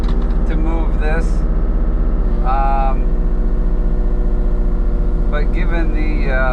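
A Kubota mini excavator's engine runs at a steady low drone while the machine moves a shed, with someone talking over the constant rumble.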